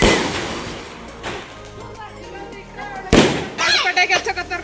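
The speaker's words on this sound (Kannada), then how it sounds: "ಪಟಾಕಿ ಹಚ್ಚಕತ್ತಾರ ನೋಡ ಅವ್ರ ಹುಡುಗರು." Firecrackers go off during a family Deepavali celebration, with sharp bursts and crackling pops, one loud blast near the middle and a quick run of cracks at the end, mixed with people talking.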